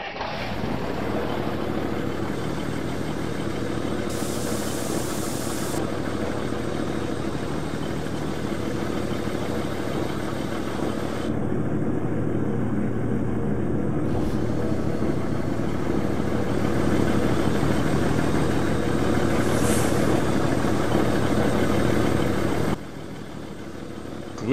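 An Autocar AT64 truck with a Cummins engine starts up in a truck-driving video game, then settles into a steady, throaty idle. The low rumble holds for over twenty seconds with small shifts in tone.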